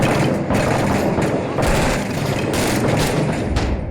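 Gunfire and heavy booms in the Iraq war shooter Six Days in Fallujah, a near, loud fusillade of rapid shots and thudding blasts that continues without pause.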